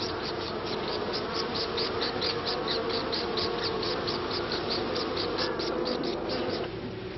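Honey bees hum in a steady buzzing drone while a beekeeper works the hive, with rapid high pulsing chirps repeating on top throughout.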